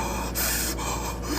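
A voice imitates hyperventilating breathing, with a few quick, sharp gasping breaths in rapid succession, loud and close.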